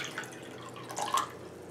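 Half a cup of water trickles and drips into a homemade slime mixture of glue, a faint, close splash that briefly grows louder in the middle.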